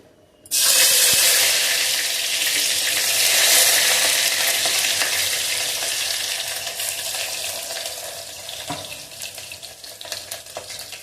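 Sliced onions hit hot oil in a pan for an egg dish and burst into a loud, bright sizzle that slowly eases into steady frying, with a few clinks of stirring and no speech.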